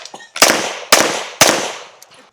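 Three sharp, loud gunshots crack out at a USPSA shooting match in Kentucky, spaced about half a second apart, each trailing a short echoing decay, with a few faint clicks around them.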